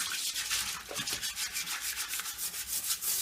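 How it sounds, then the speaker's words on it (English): A toilet brush scrubs a toilet bowl in a bathroom, making steady rhythmic bristle rubbing strokes, close and fairly loud, with no voices. "You really have to actually scrub."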